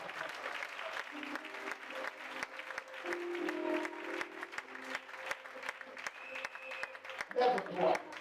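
A church congregation applauds and cheers in a sustained wave of clapping, with voices calling out over it throughout.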